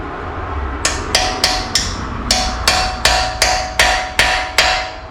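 A hammer pounds a corroded brake part on a Roxor off-road vehicle: about a dozen loud, sharp metallic strikes in a steady rhythm, close up.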